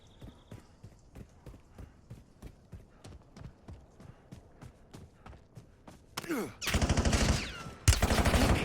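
Call of Duty Warzone match: a run of steady, even footfall-like thumps gives way to loud, close bursts of rapid automatic gunfire near the end.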